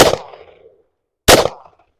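Two sharp shots from a Ruger LC Charger pistol chambered in 5.7x28, about a second apart, each a loud close crack trailing off in a short echo.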